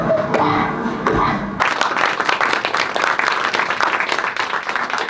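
Viewers at a screening of a documentary about the war in Donbas break into loud, sustained applause with dense clapping. It follows a brief stretch of quieter sound and then continues steadily.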